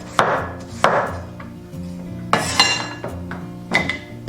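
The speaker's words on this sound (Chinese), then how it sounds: "把南瓜切片，等一下比较好熟。" A knife cuts through peeled, seeded pumpkin on a board, giving four sharp chopping thuds with a bright crack on each stroke, close and loud with no talk.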